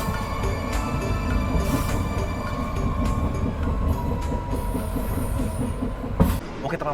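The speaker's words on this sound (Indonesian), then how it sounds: "saat ini kereta api Taksaka baru saja berangkat dari stasiun Cirebon" The Taksaka passenger train pulls out of Cirebon station, with a steady rumble and rolling wheel noise inside a carriage, a few faint metallic squeals and one brief louder knock near the end.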